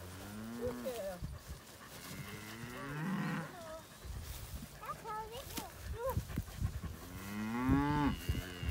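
Farm cows moo loudly and repeatedly at feeding time as corn shucks are brought out, long drawn-out lowing calls from several animals close by, with people talking in between.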